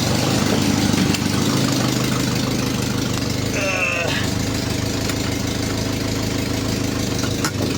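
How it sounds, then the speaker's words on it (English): A steady engine idles loudly and continuously, a low rumbling drone filling the whole stretch, with a brief squeal partway through. "Oh my god, she's idling."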